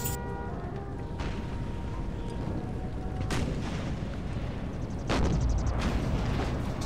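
Cannon and howitzer fire booms across an American Civil War battle in a strategy game set at Front Royal, with several broad blasts at intervals, the largest near the middle and end, over a steady rumble of distant gunfire.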